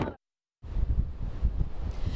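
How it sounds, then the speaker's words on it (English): Strong gusting wind during a nor'easter storm buffeting the microphone outdoors, a loud rumbling roar that cuts out briefly, then returns steady and blustery. "It's windy."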